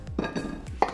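A knife chops through a large courgette on a board, cutting it into chunks: a few separate, sharp cuts land close by in quick succession with no talking.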